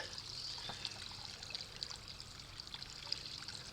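Water trickles and splashes faintly as it pours out of kayaks at a creek takeout, a light continuous dribble with occasional small drips, distant and quiet.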